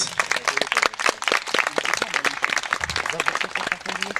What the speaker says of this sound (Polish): Jeśli mogę, to chciałbym oklaskami e, powitać Was.